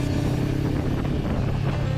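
A Honda CB500X motorcycle fitted with an Exil aftermarket exhaust, no baffle, runs with a steady, deep engine drone, heard while riding with some wind noise.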